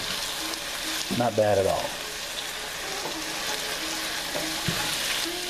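Bhindi masala sizzling and frying in a hot pan while being stirred, a steady broadband hiss throughout with a brief louder scrape of stirring, and a voice speaking briefly over it.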